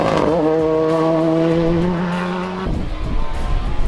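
Rally car at a spring stage event, passing close with a loud rising engine note held for a couple of seconds before dropping off into rougher, gravelly driving noise.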